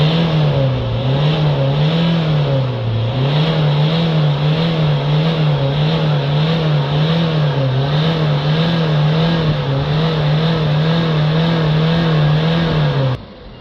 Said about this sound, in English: Now if we give the van a few revs up and down